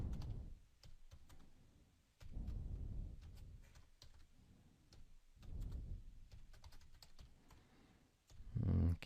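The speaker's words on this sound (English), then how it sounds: "I'll just type some names." Steady typing on a computer keyboard in a quiet room, a long run of soft, close key clicks in uneven bursts with brief pauses and no talking.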